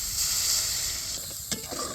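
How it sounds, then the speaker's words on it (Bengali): Coconut paste fries in hot oil in a village kitchen, giving a steady close sizzle and hiss, with a brief clatter of stirring near the end. "নাহেল বাটাটা এখন তেলে সুন্দর মতো ভাজে নিব"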